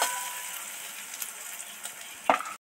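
Turmeric and chili powder fry with spices in a pan while being stirred, a soft continuous sizzle with a few light scrapes and a sharper clatter near the end before it cuts off.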